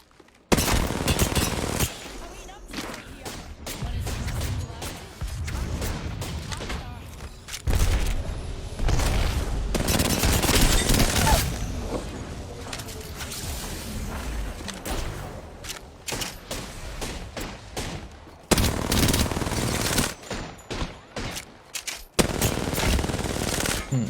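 Dense video-game gunfire with rapid automatic bursts and booming shots, loud and nearly continuous, broken by brief pauses and a few sharp single reports.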